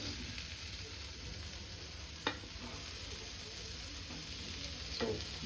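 Ladies finger (okra) already fried being stirred in a pan, a soft steady sizzle with a couple of sharp spatula scrapes against the metal, close and fairly quiet, no talk.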